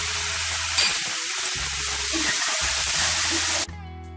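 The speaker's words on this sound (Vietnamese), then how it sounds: "Rồi xào cho đến khi hành tây thơm là được." Chopped onion stir-frying in a hot pan as part of a shrimp and meat cabbage roll dish, giving a steady loud sizzle with faint stirring scrapes that stops abruptly near the end.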